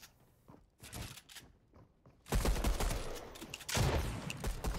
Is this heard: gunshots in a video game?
yes